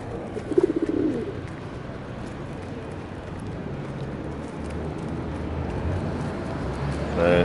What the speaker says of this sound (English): Clever pigeon.